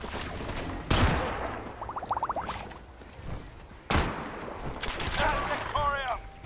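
Gunfire in the game Fallout 4: two sharp, loud gunshot cracks a few seconds apart, each with a short tail, mixed with other in-game effects and a person talking between them.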